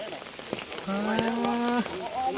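Steady rain patters on surfaces in a rural Thai setting with a motor tricycle nearby, a broad hiss throughout, while a sustained low tonal call, like a cow lowing, rises clearly over it for about a second midway.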